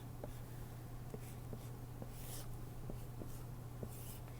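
Pen or marker scratching across a surface while an equation is written by hand, a series of soft, short strokes and taps over steady low hum, fairly quiet and close.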